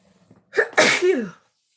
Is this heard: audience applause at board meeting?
no